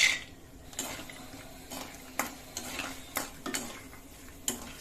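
Peanuts being stirred in hot oil for an upma tempering, with a faint sizzle under a handful of sharp spatula scrapes and clinks against the pan, close by and irregular.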